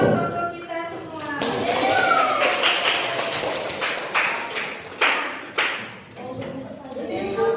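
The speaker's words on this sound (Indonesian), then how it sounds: "aplaus untuk kita semua" Scattered applause from a classroom audience of schoolchildren during a lesson on food additives: a run of sharp claps rises and fades over several seconds, mixed with voices.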